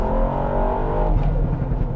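A 260bhp Ford Fiesta ST engine rumbles steadily as it eases off, with a few crackling pops from the exhaust mixed into the low drone.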